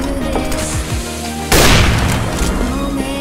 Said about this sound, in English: Grenade! I am throwing smoke!